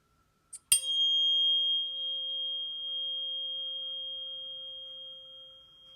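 A struck tuning fork rings out after a brief tap, its pure steady tone sustaining clearly and slowly fading over several seconds in an otherwise quiet room.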